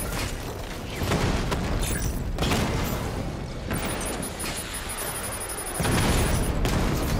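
Missile blasts and heavy booming impacts from the Batman: Arkham Knight video game, a dense continuous barrage with a louder burst near the end, no talking.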